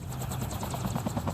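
Helicopter rotor thumping steadily in Call of Duty Mobile's Blackout battle royale mode, a continuous mid-level drone with a rhythmic chop across the whole short stretch.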